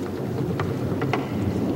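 Steady rain falls in a chimpanzee habitat with a low rumble of thunder underneath, a continuous hiss with a few soft thumps, no voices.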